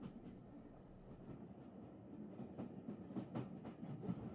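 A train rolls over rails in a steady low rumble with faint rhythmic clicking that grows slightly louder and more pronounced toward the end, close and continuous with no voices.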